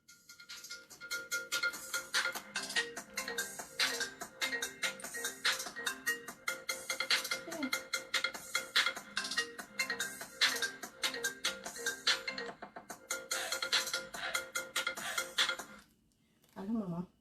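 Mobile phone ringtone playing a repeating melodic tune close by for a long stretch, steady and continuous, cutting off just before the call is picked up.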